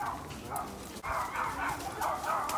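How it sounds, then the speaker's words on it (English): Dogs barking at a distance in repeated bursts, with a steady background of road or outdoor noise. "these are definitely dogs"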